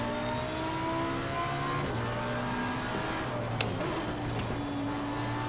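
A race car engine in Assetto Corsa Competizione howls steadily with a high whining drivetrain whistle and a faint layer of tire noise, holding a sustained drone with slight pitch shifts throughout, with no voices.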